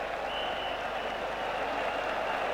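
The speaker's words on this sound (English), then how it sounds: "He'll get a big cheer off this ground." Cricket ground crowd applauding and cheering the final wicket of the West Indies innings against England, a dense, continuous roar of clapping heard from a distance, steady throughout.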